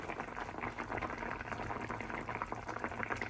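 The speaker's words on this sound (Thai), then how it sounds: "ตอนนี้ก็คือทำต้มยำกุ้งนะคะ กับปลาทะเลนะคะ เดี๋ยวให้ปลาสุกนิดนึงนะคะ" Tom yum soup with shrimp and sea fish boils in a pot, a steady low bubbling and simmering hiss that stays even and fairly faint throughout.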